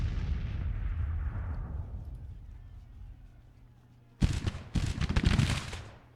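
Gunfire in the Total War GT:CW mod, an 1861 Confederate campaign battle: after a fading low rumble, a sharp burst of musket volleys crackles through, then another dense ragged volley, loud and close.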